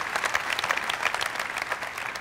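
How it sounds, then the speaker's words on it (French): An audience at a Paris business conference on stage with Ladurée gives sustained, even applause, a dense wash of clapping with no talk over it. "je crois que vous méritez beaucoup d'applaudissements pour le travail fantastique que vous avez fait"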